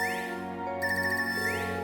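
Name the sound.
phone ringtone in the video game Trails of Cold Steel 3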